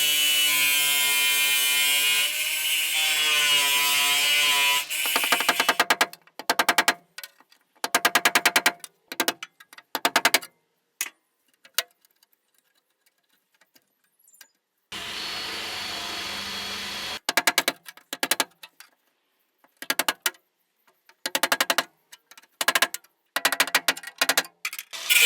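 A power tool cuts through the car boot floor side panel during boot floor and rear crossmember repair, running in a steady loud buzz at first, then in many short bursts with pauses between them.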